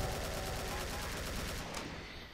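Rapid AK-47 fire in the game Doom, a fast continuous stream of loud, evenly spaced shots that stops abruptly near the end.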